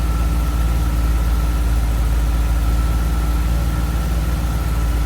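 A modified Bumblebee car's engine idles steadily after an idle-screw adjustment, a constant low rumble with a faint mechanical hum and no talking, loud and close throughout.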